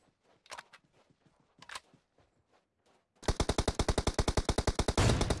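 Gunfire in PUBG Mobile, with sniper rifles such as the M24 and AWM in play: after soft chatter, a sudden loud, rapid train of evenly spaced shots runs to the end, building into a dense roar.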